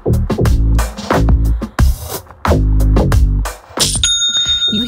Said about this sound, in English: You hear that? That is the sound of another sale on Shopify